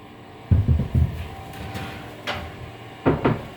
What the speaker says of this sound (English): lift the door straight up, slide that door in.